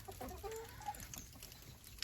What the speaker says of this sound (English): Boy, them some faithful chickens.